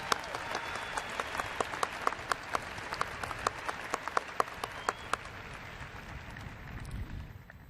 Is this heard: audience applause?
yes